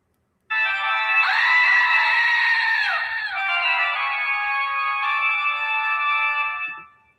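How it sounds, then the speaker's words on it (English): A Halloween-themed toy goat plays the opening of Bach's Toccata and Fugue as a loud, shrill, bleating electronic tone. The tone is sustained and wavering for about six seconds before it cuts off, alone, with no talking. "which plays the very beginning of Bach here, the toccata and fugue"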